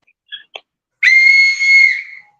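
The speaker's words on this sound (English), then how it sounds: "Y'all will see why I'm blowing the whistle." A couple of short, faint chirps lead into one loud, sustained whistle blast lasting about a second, shrill and close, with silence around it.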